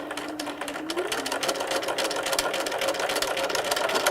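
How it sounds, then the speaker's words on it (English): A sewing machine stitches a seam across the front of a fabric face mask, its steady motor hum running continuously and fairly loud throughout with no talking. "So you'll just sew along this front here."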